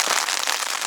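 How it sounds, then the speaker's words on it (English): Rain beginning to fall at a mountain campsite at Elfin Lakes, British Columbia, a steady close hiss of drops pattering on a surface, dense and even with no voices. "And here comes that rain you can see."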